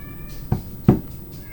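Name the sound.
house cats play fighting in the kitchen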